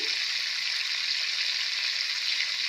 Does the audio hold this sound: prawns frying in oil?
yes